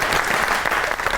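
Studio audience on a television talk show breaking into steady, dense applause, a brief burst of many hands clapping at moderate loudness.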